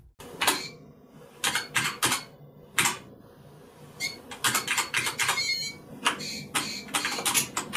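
Harsh, buzzy beeps and chirps of Doom sound effects from a tinny PC speaker under MS-DOS, bursting in irregular clusters.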